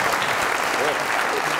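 A studio audience on a Pakistani comedy talk show claps loudly and steadily for a female guest, with a voice audible over the applause.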